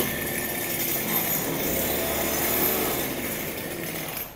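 A Kawasaki TD40 four-stroke grass cutter engine runs at a steady idle, a continuous close buzzing drone with no talk over it.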